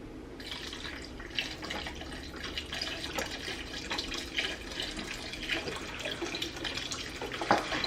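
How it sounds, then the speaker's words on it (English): Vegetable broth pours into a pot, making a faint continuous splashing, trickling stream of liquid at close range. "I'm going to add the veggie broth."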